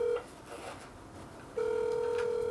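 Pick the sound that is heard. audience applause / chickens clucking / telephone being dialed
telephone being dialed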